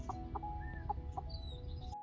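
Chickens cluck softly in short, scattered calls over a steady low hum, with a few faint bird chirps in the background.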